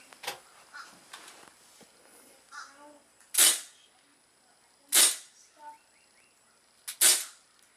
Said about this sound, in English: let's sling some BBs.